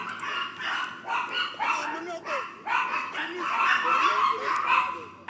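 Dogs bark and yip in repeated bursts, fairly close, with whimpering between and a voice talking underneath.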